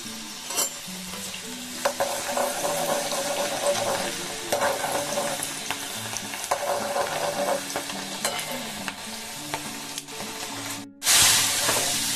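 Food fries in foaming oil in a pan over a gas flame, giving a steady close sizzle with scattered stirring clinks. A sharp, louder hiss flares up near the end.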